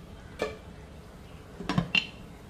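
A metal lid is set onto a pot of dal makhani, one light clink followed a moment later by a couple of sharper metallic clatters as it settles, over a quiet background.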